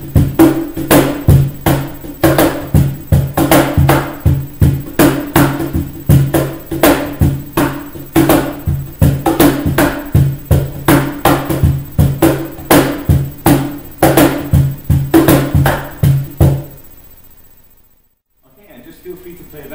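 A cajon groove played near and loud, with strong bass thumps, sharp slaps and quiet ghost-note taps in a steady rhythm, ending abruptly before brief silence.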